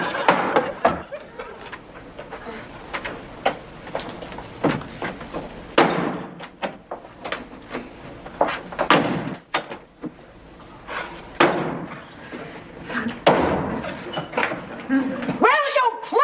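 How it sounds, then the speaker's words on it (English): Doors slam and thud repeatedly in a house, sharp bangs scattered among lively talking voices. "will you please stop slamming the doors?"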